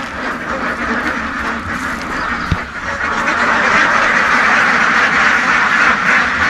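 A flock of about 900 ducks on a farm quacks continuously nearby, a dense, loud chorus that swells louder after a brief dip.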